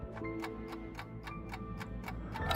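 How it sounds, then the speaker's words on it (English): An alarm clock in the video game Alan Wake ticks steadily, about four ticks per second, sharp and close, over a low ambient hum that rises slightly at the end. "alarm clock."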